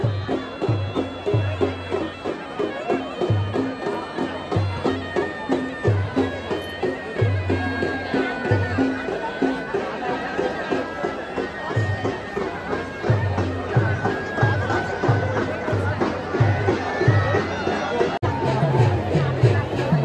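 A large crowd of villagers gathers at midnight for the Holi bonfire tradition at Borli Panchatan, Shrivardhan, in Konkan, a dense, loud babble of voices over rhythmic drumming that continues throughout.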